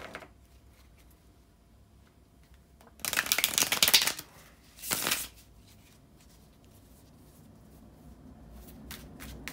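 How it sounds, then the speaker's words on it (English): Tarot cards are shuffled close up in two quick bursts: a longer riffle of crisp card flutters followed shortly by a short second shuffle, with quiet stillness around them. "bear with me a couple of seconds, guys, to shuffle the tarot cards"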